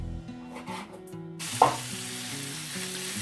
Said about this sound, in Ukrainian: На добре розігріту сковорідку виклала цибулю і м'ясо одночасно і обсмажую на сильному вогні